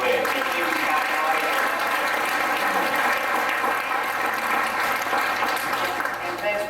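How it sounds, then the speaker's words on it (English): Outdoor crowd applauding the mayor at a Veterans Day ceremony in Oxnard, a steady wash of clapping mixed with murmuring voices and a low background hum throughout. "How about another round of applause for Mr. Mayor, Mr. Tim Flynn?"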